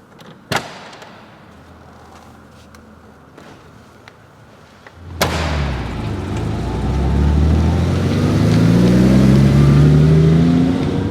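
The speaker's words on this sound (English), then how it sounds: "it's time to let the engine do the talking and take it out for a drive" After a quiet interior with a couple of sharp clicks, a door thuds and a Ferrari 365 GTC/4 engine starts, then revs up and drones steadily louder while driving.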